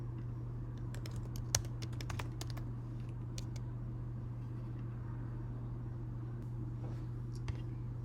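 Soft, steady computer keyboard typing as registration details are entered, scattered light keystrokes over a constant low electrical hum.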